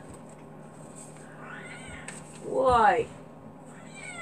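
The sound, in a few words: cat meowing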